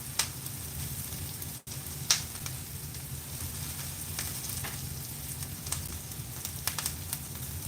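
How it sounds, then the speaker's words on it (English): Onions and vegan Salisbury steak with mushrooms frying in a pan, a continuous fine sizzle with occasional soft pops and stirring clicks, alone without talk. "and let that cook down with the onion"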